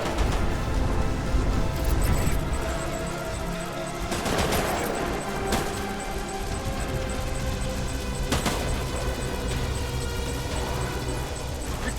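Heavy gunfire fills a Death Stranding firefight on PS4 Pro. Dense, continuous bursts and rattling volleys run loud for the whole stretch, with a few sharper blasts standing out.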